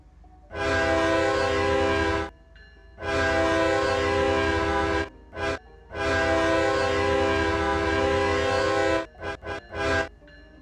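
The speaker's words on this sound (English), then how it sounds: "Finally, a new horn that was added into the CSX ES44DC, or ES40DC, whatever you want to call it." A CSX ES44DC diesel locomotive in a Roblox train game sounds its new horn in a rich multi-tone chord: two long blasts, a short toot, another long blast, then a quick series of short toots, loud and close.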